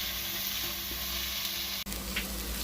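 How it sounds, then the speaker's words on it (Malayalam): Onions frying in homemade ghee for Kerala chicken biryani, a steady close sizzle with stirring, briefly cutting out near the end before the hiss resumes louder. "എന്നിട്ട് നന്നായി ഇളക്കി കൊടുക്കുക."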